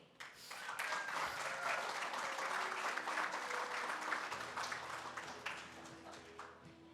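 At a small business summit, an audience applauds the California treasurer, Fiona Ma. The clapping is full and sustained, swelling quickly and then slowly thinning out toward the end.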